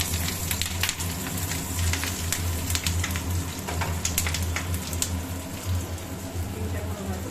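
Bhetki fish paturi wrapped in leaves frying in hot oil in a home kitchen, a continuous crackling sizzle with scattered sharp pops, close and steady beneath occasional talk.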